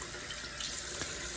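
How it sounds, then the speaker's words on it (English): Tap water runs steadily into a sink as a face is rinsed, a close, even splashing hiss that holds for a moment without pause. "I'm going to rinse it with water 30 times."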